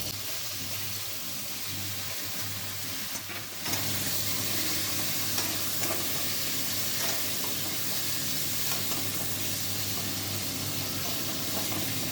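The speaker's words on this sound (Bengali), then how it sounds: "তেল দিয়ে আমি এবার মাছের মাথাটাকে ভেজে নেব" A fish head fries in hot oil in a wok, giving a steady, bright sizzle and hiss that holds for several seconds, with a brief shift in tone partway through and no talking.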